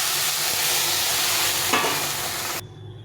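Potatoes frying in a pan produce a loud, dense sizzle, with a brief surge as boiled water is poured in, and the noise ends suddenly near the finish.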